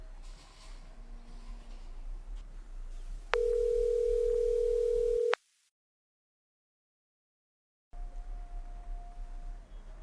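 A landline phone tone sounds steadily for about two seconds in a room with low background hum, then the line cuts to silence before the ambient noise returns with a faint, brief tone.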